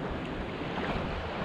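Waves washing onto a stony-entry beach at St. Barths, heard as a constant soft broadband wash mixed with wind buffeting the microphone, no voices.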